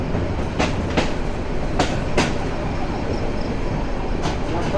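The Meghna Express, an intercity train in Bangladesh, rolls past close by with a steady loud rumble and repeated clickety-clack wheel beats over rail joints, with no talking.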